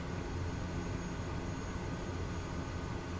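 Steady, broad engine drone of a Kodiak 100 single-engine turboprop taxiing in a flight simulator, constant and fairly loud throughout with no talk.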